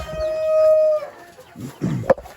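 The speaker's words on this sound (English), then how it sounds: "there's probably going to be about 300 roosters cockadoodling in the middle of this" A rooster in a chicken barn gives one long, clear crow up close. Softer clucks and a sharp squawk from other birds follow, with more crowing faint in the background.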